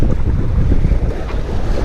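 Strong wind blows outdoors during fishing by the water, producing a loud, continuous rumbling buffet against the microphone that never lets up.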